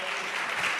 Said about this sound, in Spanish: un aplauso para todos los 8 que nos han ayudado